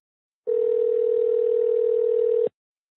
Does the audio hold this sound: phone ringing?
yes